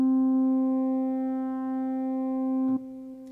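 A basic wavetable-engine patch in Arturia Pigments sustains one steady, buzzy synth tone rich in even harmonics, holding level for nearly three seconds before a brief glitchy click and a softer tail.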